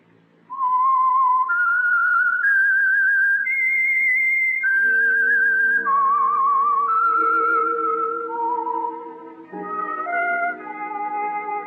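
A melodic theme tune for the old-time radio mystery program The Whistler is whistled clearly and loudly, with a lower instrumental accompaniment beneath the wavering notes.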